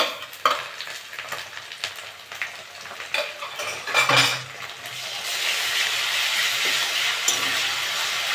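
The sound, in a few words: frying ginger garlic paste in a pan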